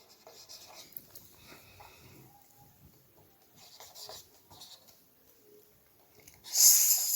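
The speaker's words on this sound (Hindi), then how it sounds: "तो हम यहाँ पर लिखेंगे" Pen scratching out a math answer on paper during a class 6 lesson, soft irregular strokes and rubs close by, followed by a louder burst of rustling at the end.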